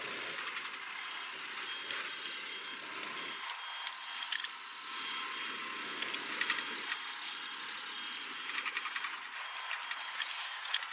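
Inside an air-conditioned bus outside Hinigaran, a constant high whining tone drones over a low engine rumble that rises and falls, with faint rattles and no talk.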